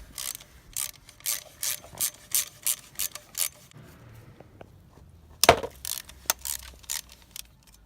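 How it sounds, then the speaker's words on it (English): A ratchet tool clicks in quick repeated bursts while undoing the Torx chainring bolts on a bicycle, followed by a metallic clink and a few more loose clicks close by. "Take them 4 Torx bolts out."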